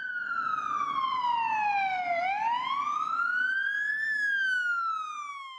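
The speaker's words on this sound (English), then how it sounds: "Can you put your sirens on too for this one?" A loud police siren wails, sliding down in pitch then sweeping back up in a slow, continuous cycle, close and alone.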